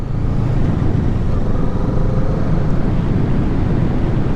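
A Kawasaki Z650 motorcycle engine drones steadily while riding, a low rumbling hum with a faint whine on top, continuous and fairly loud.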